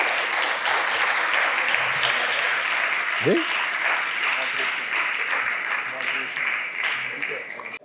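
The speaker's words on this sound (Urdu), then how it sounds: "اس پہ یہ ایک بچی تالی بجا رہی ہے" Audience applause fills a Karachi university conversation event, with one girl clapping among the crowd; a dense, steady wash of clapping runs throughout at moderate level, with a brief voice-like tone in the middle.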